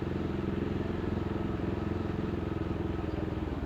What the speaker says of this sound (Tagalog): Bumalik yung nakamotor.